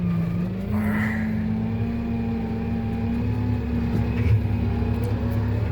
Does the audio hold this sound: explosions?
no